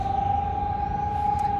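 A single steady air raid siren tone in wartime Kharkiv, Ukraine, holds unchanging throughout, loud and sustained over a low rumbling background.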